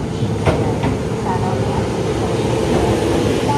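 A subway train rumbles steadily through Tanigami Station on the Hokushin Kyuko line, low and continuous, with a faint announcement voice and brief higher squeals near the start.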